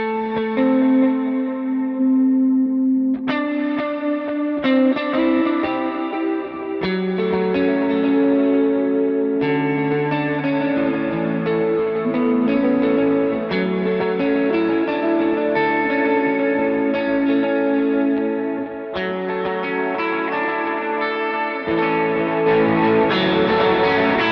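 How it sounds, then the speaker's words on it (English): Electric guitar plays through an HX Stomp AC30 amp model with dotted eighth delay and big reverb, chiming chords and notes trailing into rhythmic repeats and a wide wash, loud and continuous with no voices. "I turned on the dotted eighth delay from the HX Effects"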